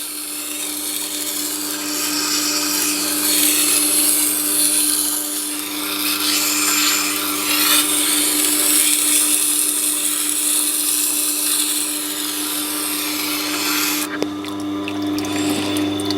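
A steady, harsh grinding whine of a knife blade held against the smoother side of a spinning Tormek T8 sharpening wheel, continuous and close, shifting in tone briefly near the end.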